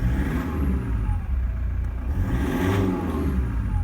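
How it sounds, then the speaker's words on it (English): Cold car engine, freshly remapped with new injectors, revving as it warms up: a steady mid-pitched idle that rises and falls in smooth revs, close and loud, with no voices. "We've got a cold engine, it's clean revving."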